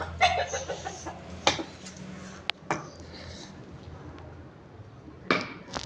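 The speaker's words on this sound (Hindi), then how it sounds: "फिर दिखाती हूँ मामू की मुर्गा मुर्गियाँ जो मामू ने पाली हुई है" Pet roosters and hens kept at a family home give a few scattered clucks and short calls, fairly quiet, over an outdoor background hum, with a louder burst near the end.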